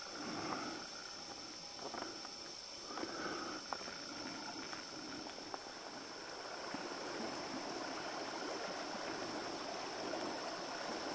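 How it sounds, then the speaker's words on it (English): Water flowing in a creek bed, a steady soft rushing murmur throughout, with a few faint knocks and rustles mixed in. "It is a creek bed."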